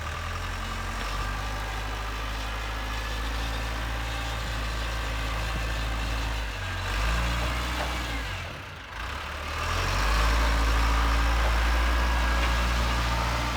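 A 1997 Lull telehandler, a machine that smokes heavily on startup, drives forward with its engine running: a loud, steady, close diesel drone that dips briefly midway as it shifts gears, then resumes strongly.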